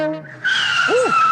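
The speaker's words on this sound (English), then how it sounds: "If you set people's teeth on edge every time you step on the brakes" A radio-advertisement sound effect for a muffler shop: car brakes squeal and tires skid in one loud, sustained screech lasting about a second, following a brief voiced sound at the start.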